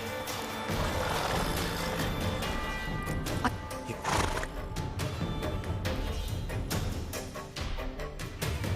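A horse whinnies amid clattering hoofbeats and dense game sound effects in The Witcher 3: Wild Hunt, loud and busy throughout.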